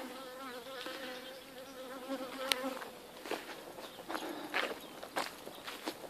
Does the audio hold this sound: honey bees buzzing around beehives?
yes